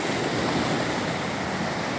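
Waves on a rocky Mediterranean shore make a continuous, loud wash of surf and spray, steady throughout with no distinct breaks, mixed with some wind rumble and no voices.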